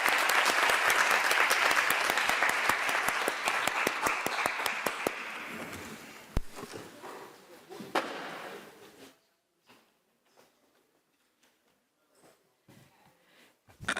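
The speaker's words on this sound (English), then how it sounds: "So I invite you to give them a round of applause." Applause for a panel at a Brazil–UK pre-COP30 dialogue, a crowd clapping loudly at first, then thinning out over several seconds into a few scattered claps before fading to near silence.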